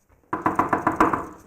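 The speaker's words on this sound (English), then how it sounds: "Big, scary knock at the door." A loud, heavy knock at a door, a rapid series of about eight close, booming raps after a moment of quiet, with no talking over them.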